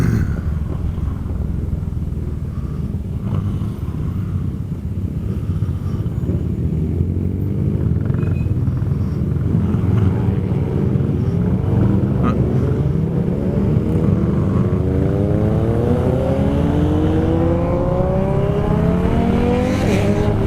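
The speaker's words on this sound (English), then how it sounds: "For a Sunday, it seems to be a bit of traffic." Steady road noise and passing traffic heard while riding a Kymco Xciting 400i scooter on a Sunday, with continuous engine and wind rumble and a vehicle rising in pitch as it accelerates nearby.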